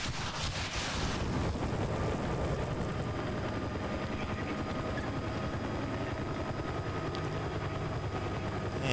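A steady, loud helicopter rotor drone in flight in Battlefield Bad Company 2, continuous and unbroken with a wind-like rush throughout, no speech.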